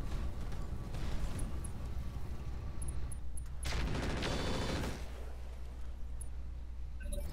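Mech autocannons and Vulcan-type weapons fire in the RogueTech battle game, a sustained, dense stream of rapid gunfire and booming impacts that surges loudly in the middle of the stretch, with scattered sharp cracks throughout.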